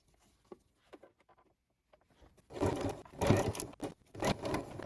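A sewing machine starts up to stitch a face mask, following a few faint taps and handling sounds, then running in two short close bursts of rapid mechanical whirring.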